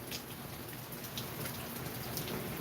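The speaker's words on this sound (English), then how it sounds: "I know it's raining behind me" Steady rain falling outdoors, a continuous even hiss of drops on surfaces with scattered brighter splashes, filling the scene without pause.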